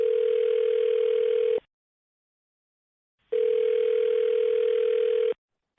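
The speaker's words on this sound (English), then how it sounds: "I'm going to dial her phone number right now" A telephone line hums while a call is being placed: two steady, loud tones of about two seconds each, separated by a stretch of silence, in a clean, close signal with no talking.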